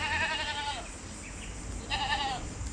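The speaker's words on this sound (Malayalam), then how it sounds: "നല്ലൊരു അടിപൊളി മലബാരി ആട് നല്ല പാലുള്ള ആടാട്ടോ" A milk-producing Malabari goat bleats twice, a long wavering cry followed after a short gap by a second, shorter bleat, with quiet background noise between.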